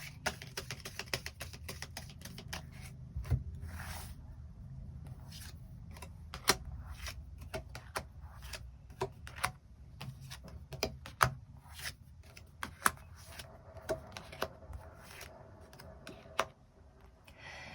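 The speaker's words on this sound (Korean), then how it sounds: "일별로 월요일부터 일요일까지 어떤 일들이 있을지에 대해서 조금 더 추가 카드 뽑아보도록 하겠습니다" Tarot cards being shuffled and drawn for a weekly reading, a soft stream of papery flicks, taps and slides with a few sharper snaps, close and quiet with no talking.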